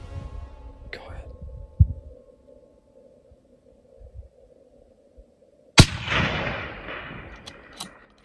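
A single loud rifle shot rings out at a distance while hunting black bear on public land in Arizona, a sharp crack followed by a long rolling echo, with quiet whispered talk before it.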